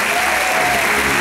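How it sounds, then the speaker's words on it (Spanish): An audience at a Venezuelan children's modelling pageant gives strong, steady applause, many hands clapping together in a loud continuous wash. "con un aplauso fuerte de ustedes, los vamos a despedir"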